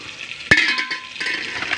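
Small onions dropped into hot coconut oil in a pan give a sharp clatter followed by a steady close sizzle and frying hiss that continues after the impact.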